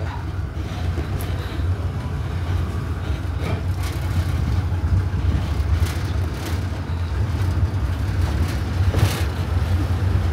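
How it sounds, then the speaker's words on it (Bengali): A taxi car carries passengers to a hotel on a Thai island, its engine droning steadily and loudly from close inside the cabin, with a continuous low rumble and no talking. "সো এরকম একটা গাড়িতেই যাচ্ছি হোটেলে।"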